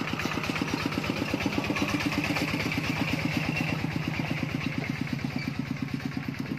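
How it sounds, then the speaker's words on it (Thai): A farm tractor engine chugs past up close with a steady, rapid thumping beat and mechanical clatter, loud and continuous with no talk over it. "รถไถขี่รถผ่านมา"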